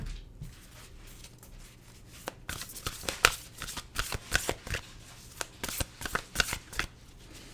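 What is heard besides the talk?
shuffling oracle cards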